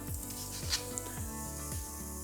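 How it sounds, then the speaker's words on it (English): Pork sausage meat frying in a hot deep-rim pan with a constant hiss and crackle, interrupted by repeated rhythmic scraping as the meat is broken up, close and with no speech. "Got my pork and just break it up. Hot pan,"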